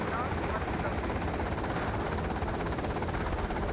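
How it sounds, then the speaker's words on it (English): A helicopter in the video game GTA Vice City gives off a dense, continuous rotor chop and whine. It plays loud and steady, with no break, and may be mixed with gunfire. "The helicopter is stuck on the bridge."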